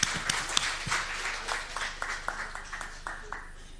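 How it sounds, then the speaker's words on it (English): Light applause from a small audience for panelists at an energy conference, scattered distinct claps with a soft room echo, fairly quiet and tapering off over a few seconds. "A big round of applause for them."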